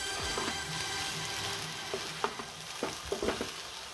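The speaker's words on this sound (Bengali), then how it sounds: "এবার মশলাটা একটু মিক্সড করে দিই।" Spices being stirred into home-style chow mein in a hot pan, giving a steady low sizzle with scattered scraping and clinking strokes that grow more frequent toward the end, close up and without talk.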